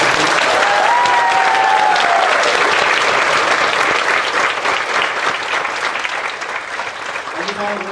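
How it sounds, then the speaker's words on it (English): Steady, loud audience applause at a live Disney event at Magic Kingdom, a dense wash of clapping sustained throughout with a few whoops early on and a voice briefly heard over it. "Big round of applause for Ken."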